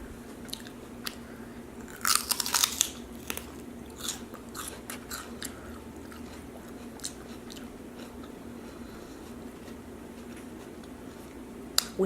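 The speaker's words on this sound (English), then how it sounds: "Celery is definitely not my favorite, but with some peanut butter or cream cheese" Celery sticks with peanut butter bitten and crunched close to the mic, a burst of loud crisp crunches early on followed by sparse, quieter bites and chewing against a steady low background hum.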